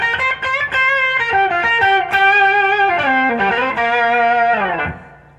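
Electric guitar through distortion combined with a TC Electronic Sub 'n' Up Mini octave pedal, gritty sustained notes and bends thickened by an octave layer, played loud and continuous before fading out at the end.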